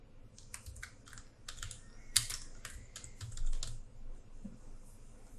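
Fingers typing on a computer keyboard while working in Photoshop: quick clusters of close, clicky keystrokes with brief gaps, one sharper tap standing out, over a low room hum and no talking.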